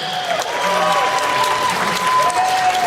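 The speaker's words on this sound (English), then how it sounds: "Big round of applause for Ken!" Audience applause fills the hall at the closing ceremony of a fan festival in Toronto, steady and loud clapping throughout with a faint voice underneath.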